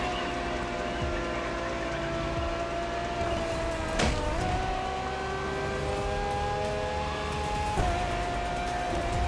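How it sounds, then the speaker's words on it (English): A Ferrari V12 hybrid car engine, naturally aspirated, revs in the racing game The Crew Motorfest. It holds a loud, steady, high-pitched drone that climbs slowly, with two brief sharp bursts along the way. "The strongest naturally aspirated Ferrari V12 to date, marking Ferrari's first steps into hybrid technology."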